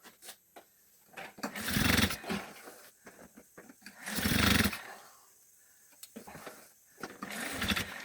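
A Peugeot 103 moped fitted with a Gilardoni kit being kicked over, with bursts of engine sputter and revving that catch briefly and die out between attempts, close by and fairly loud.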